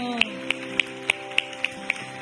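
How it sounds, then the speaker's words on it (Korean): A church congregation clapping in time during Sunday worship, seven evenly spaced sharp claps over a sustained musical backdrop. "여러분 박수 소리에 좀 힘이 없으신 것 같아요"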